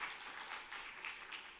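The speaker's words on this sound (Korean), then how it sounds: "박수 한번 쳐드리세요." A church congregation claps during a Sunday service, a brief, faint patter of hands with a slight rhythmic pulse, heard alone.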